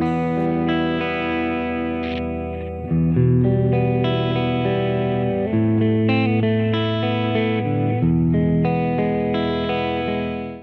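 An electric guitar plays a melodic solo in a clean tone, with sustained, ringing single notes and smooth pitch changes, steady and prominent with no talking.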